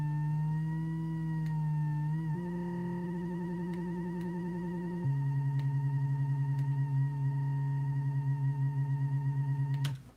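A synthesizer tone with an LFO on the pitch, giving a wavering vibrato on sustained notes that step between pitches before cutting off abruptly.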